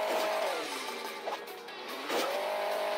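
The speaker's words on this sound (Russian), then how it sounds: "Давай, газуй, газуй." A car engine in the Hill Climb Racing 2 mobile game revs steadily with a whining tone, dips briefly as it eases off, then climbs again, fairly quiet and alone without speech.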